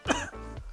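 A single short, harsh cough, close and loud, followed by a brief throaty rasp, from someone eating spicy noodles with green chili.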